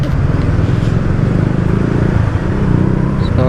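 A 2019 Yamaha Sniper 150 Monster Edition motorcycle threading through street traffic, its engine droning steadily up close amid surrounding road noise.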